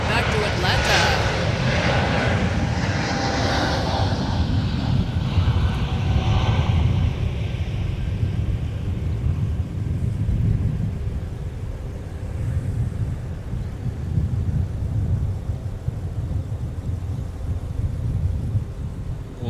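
A Spirit airliner departs from MSP airport, its jet engines building into a loud, broad roar that rumbles steadily throughout, with a voice talking over it near the start.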